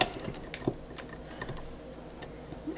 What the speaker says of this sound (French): On va déjà continuer à mélanger un petit peu ça.